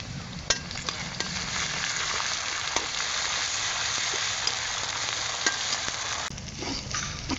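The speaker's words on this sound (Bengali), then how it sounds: "আদা ও রসুন পেঁয়াজের সাথে খুব সুন্দর মতো ভাজা ভাজা হয়েছে।" Ginger-garlic paste frying with onions in a pan gives a loud, steady close-up sizzle, punctuated by occasional scraping clicks of stirring and no voices.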